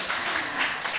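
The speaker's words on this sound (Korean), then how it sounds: "박수 한번 주십시오." Brief burst of audience applause at a Korean poetry talk show, a dense wash of clapping filling the whole second at moderate level with no voices over it.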